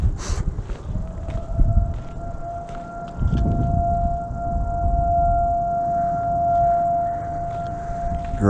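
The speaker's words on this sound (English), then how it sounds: "As soon as I walked in the field of vision, a freaking siren went off over here" A security siren goes off at a fenced radioactive site, a steady wailing tone holding for several seconds over rumbling wind and handling noise, no speech.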